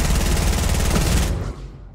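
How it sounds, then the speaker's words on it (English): Gunfire rattles in a battle royale game as a player shoots at a cube from a distance. A steady rapid burst of loud shots carries on for over a second, then stops abruptly and leaves a fading tail. "I'm going to shoot it from a distance."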